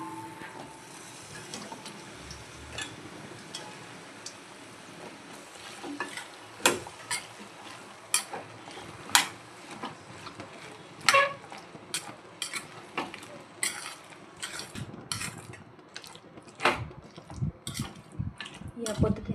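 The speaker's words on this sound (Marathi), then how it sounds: "आता आपण हा मसाला असा फ्राय करून घेतलेला आहे, त्यामध्ये आता आपण ह्या शेंगा टाकून घेणार आहोत।" Drumstick pods are stirred into fried masala in a pan, with a steady sizzle under frequent sharp spoon scrapes and clinks, and a voice talking partway through.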